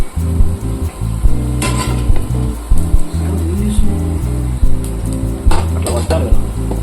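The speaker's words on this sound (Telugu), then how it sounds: "ఇలా బాగా మగ్గే వరకు ఫ్రై చేసుకోవాలి ఫ్రెండ్స్." Onions fry in a pan for egg curry as they are stirred, with a sizzle, repeated metallic clanks of utensil on pan and a steady low hum underneath.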